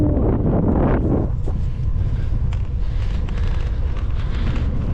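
Strong headwind buffeting a microphone while riding a titanium gravel bike on a French bikepacking trip, a loud continuous low roar that fills the whole clip with no talking.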